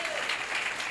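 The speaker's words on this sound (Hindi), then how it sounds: "तो फिर मेरी मिसेज के लिए ताली बजा दो ना।" An audience claps steadily in a church gathering for the preacher's wife, a soft continuous applause without pauses.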